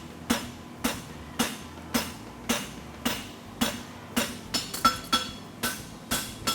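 Blacksmith forging steel on an anvil while shaping a horseshoe heel, a steady series of about a dozen sharp ringing hammer blows at an even rhythm, close and clear with no talk.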